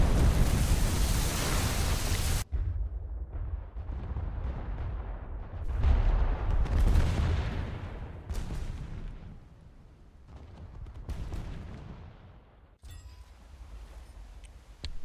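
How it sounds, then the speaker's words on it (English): A torpedo strike in the War Thunder naval battle, heavy booming blasts and rumbling explosions filling the mix with sharp cutoffs between bursts, loud and close with no talking. "Oops, and that's torpedo."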